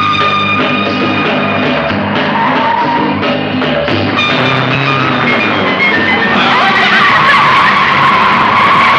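An Ambassador car is driven hard and fast, tires squealing and skidding in a loud, continuous screech over engine roar, with no talk over it.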